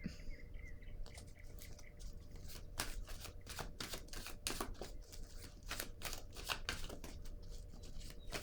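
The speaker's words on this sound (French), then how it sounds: "Je vais déposer une autre carte ici." Tarot cards handled and laid down on a table, with a rapid series of crisp close flicks and slaps from the cards, plus faint birdsong in the background.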